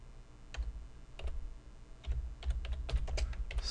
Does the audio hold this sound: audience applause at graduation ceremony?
no